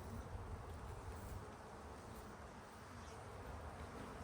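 Honey bees at an open beehive during an inspection make a dense, even buzz, a constant swarm drone that fills the whole clip with no talking.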